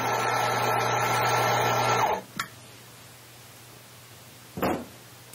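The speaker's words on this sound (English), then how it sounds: "Just grinding out some coffee." An espresso coffee grinder, used with a Brasilia Mini Classic prosumer espresso machine, grinds beans with a loud steady whir for about two seconds, then stops, followed by two short clunks.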